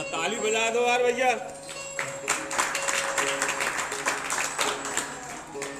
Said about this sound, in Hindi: ताली बजा दो यार भैया।